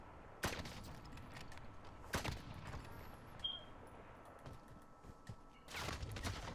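Gunfire in Call of Duty Warzone, three sharp, distant-sounding shots or short bursts spread over several seconds against a quiet game background, with no voices over them.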